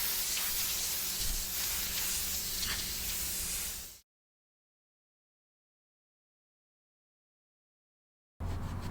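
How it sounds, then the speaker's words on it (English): A pressure washer sprays filthy grates from a Weber Genesis II gas grill, giving a steady loud hissing blast for about four seconds, then silence, and the spray starting again briefly at the end. "he is pressure washing all the flavor off of these grates"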